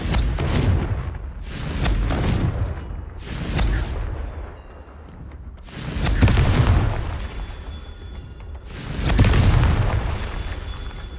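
Booming spell blasts from the Confringo fire curse in Hogwarts Legacy, four heavy explosive bursts spaced a few seconds apart, each with a deep rumbling tail, loud and close with no talk.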